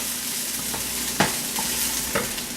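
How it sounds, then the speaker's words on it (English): Onions fry with a steady sizzle in a pan while a utensil stirs them, with a couple of sharp scrapes and knocks standing out against the constant hiss, close and fairly loud, with no talking. "Stir the onions, because of course now the onions want to fucking brown."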